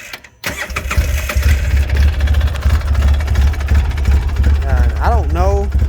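A four-wheeler engine catches and settles into a rough, uneven idle, its low throbbing loud and close, with a brief voice-like squeal near the end.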